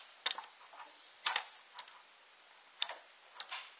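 Relay contacts snapping open and closed as an electromagnet is switched by tapping, giving sharp isolated clicks in small clusters about every second and a half, close and fairly quiet, with no talking.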